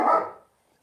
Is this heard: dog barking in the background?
yes